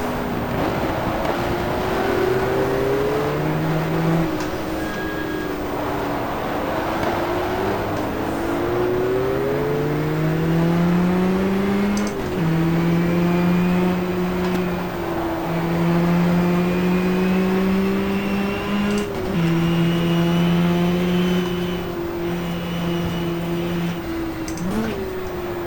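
Race car engines at Jarama in the GTR2 game scream continuously and loudly, pitch rising through the gears and dropping sharply on several upshifts. A lapped Venturi is among the cars on track.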